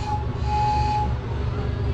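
A theme-park train circling a festival plaza at Shima Spain Village rumbles low and steady with a faint sustained tone above, moderately distant, with some murmuring voices in the background.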